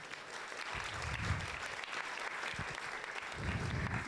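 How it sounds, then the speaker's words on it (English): An audience claps for a person being introduced at a live storytelling event, a steady patter of applause from a modest crowd heard at a moderate distance. "My friend Kyle, please give him a round of applause."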